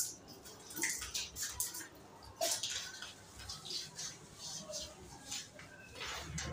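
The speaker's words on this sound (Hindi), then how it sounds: "ये इस पे जितना मर्जी पानी आप गिरे," Water poured from a bottle splashes and patters onto waterproof PVC wallpaper, a faint, irregular run of small splashes and drips close by.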